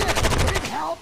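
A rapid burst of video-game gunfire rattles out in quick, evenly spaced shots over about half a second, then breaks off into a brief lingering tail.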